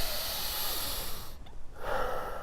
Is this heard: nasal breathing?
yes